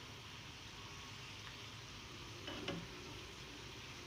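Chicken wontons frying in hot oil give a steady, close sizzling hiss with soft bubbling throughout, and a few brief clinks and a slightly louder burst of crackle partway through.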